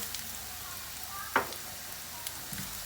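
Barley-shaped vermicelli (şehriye) frying in a little oil with caramelized onion for pilaf, giving a soft, steady sizzle with a single clear tap of a utensil and faint stirring sounds, with no talking.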